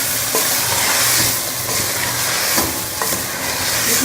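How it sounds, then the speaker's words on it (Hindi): Chicken frying in spiced masala for a Pakistani chicken biryani, loud continuous sizzling with repeated scraping and stirring knocks of a spoon against the pot. "ये हमारा मसाला भून के इसके अंदर हम चिकन डाल देंगे"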